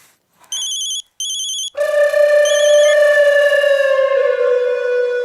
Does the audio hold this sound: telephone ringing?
yes